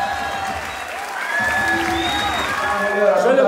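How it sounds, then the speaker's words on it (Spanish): A concert crowd applauds for a rapper on the Modo Demoledor tour, with dense steady clapping that swells toward the end while a voice speaks over it through a sustained musical tone. "un aplauso para ustedes"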